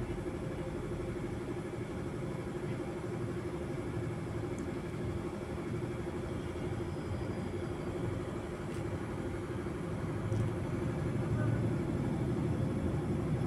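Airliner cabin noise while climbing after takeoff from Kathmandu on a flight to Riyadh, a steady broad engine and air roar droning evenly throughout.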